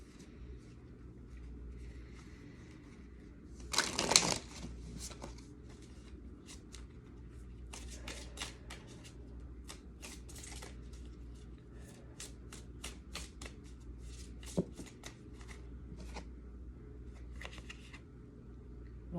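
Oracle cards are shuffled by hand in a quiet room, with a brief loud riffle burst early on followed by soft intermittent card slides and taps.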